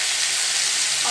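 Pumpkin greens sizzle and fry in a pan as they are stirred, a steady close hiss with faint scraping, turmeric about to go in.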